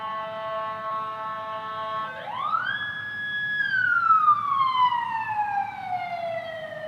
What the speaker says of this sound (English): What are the sirens out there?